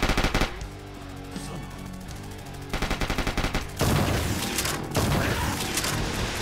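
Rapid automatic gunfire in the video game Project Warlock, dense rattling bursts with heavy booms that run almost continuously, loud and close, with no voices.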